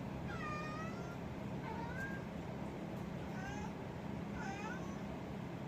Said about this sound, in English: I have a very desperate cat back here with me.